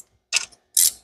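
A ratchet wrench set in reverse on a Mustang power steering pump install gives two quick, close metallic clicking bursts half a second apart, with silence between.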